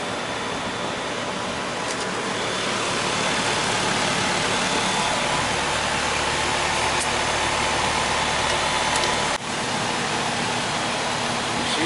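A residential air conditioner compressor, unused for two years, running steadily after a restart, a loud continuous whooshing hum with a low drone beneath it and a couple of faint clicks, no talking.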